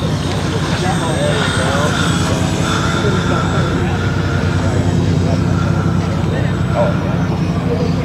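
RC model Ryan Navion airplane with a Power 10 electric motor flying, a continuous buzzing propeller drone that is loud and steady throughout, with people talking over it.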